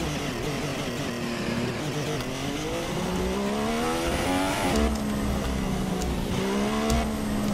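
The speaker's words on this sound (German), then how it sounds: "Das ist Gas geben, okay." An F1 car in the racing game F1 2016 accelerates hard at the Australian Grand Prix circuit, its engine pitch climbing through repeated gear sweeps, loud and steady with no voices.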